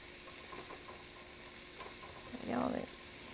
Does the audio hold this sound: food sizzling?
yes